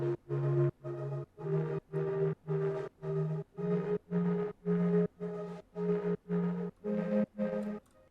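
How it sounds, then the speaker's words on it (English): Layered ambient synth drones hold a low, steady tonal bed, pulsing in about a dozen even swells with short gaps between them, with no voices. "On their own, these drones sound like this."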